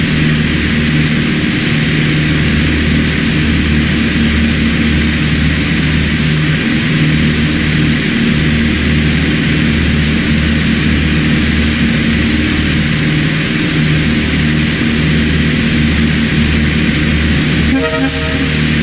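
Simulated aircraft engine in Flight Simulator X (Steam Edition) flying past an airport on a training mission, giving a loud, steady drone that holds unbroken throughout with no talk.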